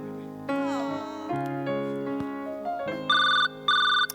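A phone ringtone plays a melodic electronic tune of sustained tones, ending in two bursts of shrill ringing, fairly close with no talk over it.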